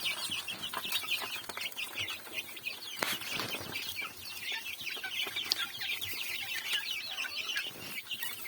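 Many chickens cluck and chatter continuously nearby while being fed corn and mash, a busy flock sound with occasional wing flaps and pecking noises.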